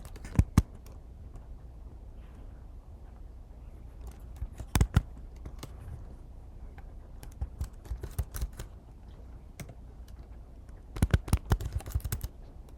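Keys clicking on a computer keyboard as a folder title is typed, quiet scattered taps with a few short bursts of rapid keystrokes over a faint room hum.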